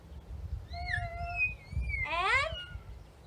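A person imitates a cat meowing during a family yoga song, producing two drawn-out, whiny meow calls close to the microphone over low background murmur.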